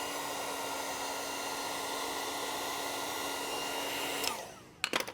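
A steady, loud heat gun blows a continuous airy whoosh with a faint hum while heating vinyl wrap on a Tesla Model 3 Highland's rocker panels. It cuts off near the end, followed by a few soft clicks.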